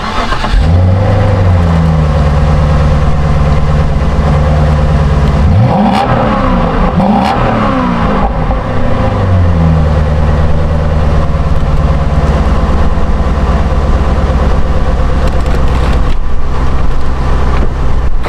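A car engine cranks and catches, then idles loudly with a low steady rumble, revving briefly in the middle before settling back to idle.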